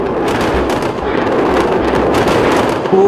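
Explosions from an attack on Tel Aviv, heard as a dense, continuous rumble of loud booms and crackling blasts that overlap with no break, with a brief higher tone near the end.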